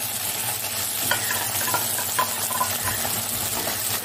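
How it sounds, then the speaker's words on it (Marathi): Vegetables and noodles stir-fried with Schezwan, tomato, dark soy and green chili sauces in a pan, giving a steady close sizzle with scraping stir strokes and light utensil clinks throughout, no talking. "हे व्यवस्थित मिक्स करून घ्यायचं आहे."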